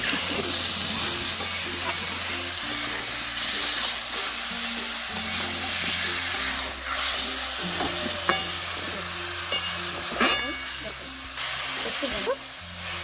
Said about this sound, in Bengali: আবারও আবার নাড়িয়ে চাড়িয়ে মিশিয়ে নিচ্ছি।